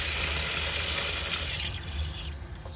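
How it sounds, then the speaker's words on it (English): Hot water pours steadily from an outdoor tap while dirty fleece is rinsed, a continuous close splashing rush with no talk, easing slightly near the end. "This is a hot water tap."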